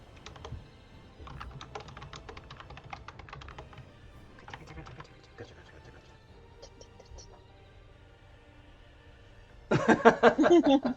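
Someone types steadily on a computer keyboard, producing quick irregular clicks at low level in bursts with pauses. A sudden louder burst of clicking and clatter comes near the end.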